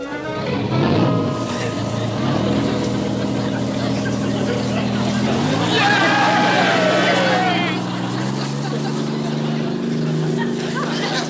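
PT boat engines drone steadily with a deep, throbbing hum. Their pitch climbs partway through as they rev up, and a brief higher sound rises over them.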